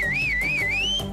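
A farmer-style whistle made by a person out in the countryside, a single loud, clear, wavering whistle that swoops up and down in pitch for about a second, heard alone and close.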